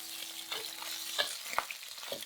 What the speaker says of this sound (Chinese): 用中小火把猪肉煸得稍微焦一些